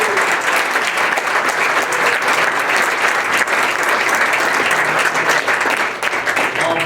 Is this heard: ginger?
no